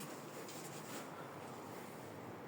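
Wind outside a house by the sea, a faint, continuous broadband rush with soft gusting swells and a hiss like rustling leaves or distant surf, without voices.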